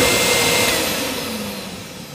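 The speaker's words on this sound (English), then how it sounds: "I will suck you into the vacuum cleaner." A vacuum cleaner runs steadily as a loud, continuous motor whine and airflow roar, close by and unbroken, slowly easing slightly in level, with no talk over it.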